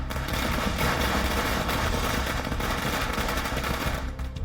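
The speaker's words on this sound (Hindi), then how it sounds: "कांग्रेस कार्यकर्ताओं ने कांग्रेस कार्यालय के बाहर पटाखे फोड़कर दिवाली का जश्न मनाया" Firecrackers burst in dense, continuous rapid crackling outside a Congress party office during a Diwali celebration, loud and unbroken throughout.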